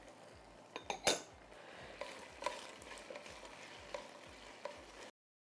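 Onions and small dried red chilies sautéing in a pan, a soft sizzle under clinks and scrapes of a metal utensil stirring against the pan, close and fairly quiet, ending abruptly.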